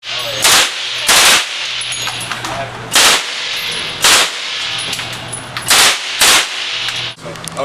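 Loud gunshots at a shooting range, six sharp blasts in an uneven rhythm with brief gaps between them, each one close and ringing, with a faint background hum.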